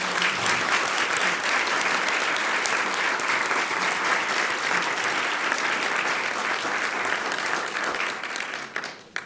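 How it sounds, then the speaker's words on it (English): An audience at the National Press Club breaks into sustained, dense applause, loud and steady for about nine seconds before tapering slightly at the end. "How about a round of applause?"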